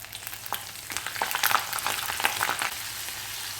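Garlic sizzling and crackling in sesame oil inside a clay pot, a steady close frying hiss with scattered sharp pops and the occasional stir.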